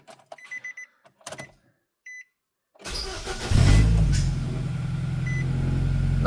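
A 2009 Nissan Versa's starter cranks briefly and the engine catches, settling into a loud, steady idle after a few quiet clicks and beeps.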